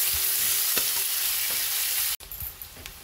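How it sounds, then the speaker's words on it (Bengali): Thinly sliced medium onion frying in oil toward light golden gives a loud, steady hiss with a few stirring clicks, cutting suddenly quieter near the end, with no voices present. "পেঁয়াজটা খুব হালকা সোনালি করে ভেজে নেব"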